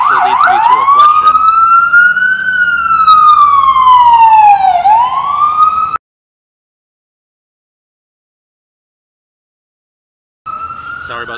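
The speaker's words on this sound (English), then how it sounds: "Sorry about the siren, guys." A loud wailing siren rises and falls close by, cuts off into silence for several seconds, then resumes briefly at the end.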